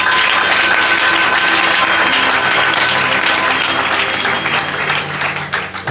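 A Pentecostal church congregation gathered for an anniversary convention bursts into sustained, dense applause that fills the hall, with a voice briefly heard under it.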